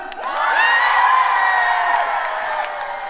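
A crowd at a town festival in Punggi bursts into loud cheering and high-pitched shouting, swelling quickly and holding for a few seconds before tapering slightly.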